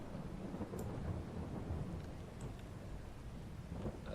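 Steady rain with a low rumble of thunder from a Farming Simulator 22 game, a dense continuous wash of rainfall holding at an even level throughout.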